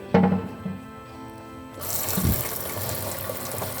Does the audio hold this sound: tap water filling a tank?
yes